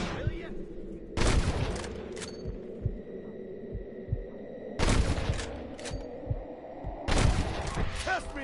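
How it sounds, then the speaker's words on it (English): Gunfire in the western video game Red Dead Redemption: three sharp, loud gunshot bursts spaced a few seconds apart over a low ambient hum and background rumble. "I can hear more gunshots"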